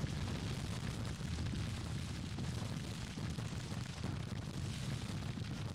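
Artillery canister fire in a Grand Tactician Civil War battle produces a continuous low rumble of booms and battle noise, dense and steady with no distinct pauses.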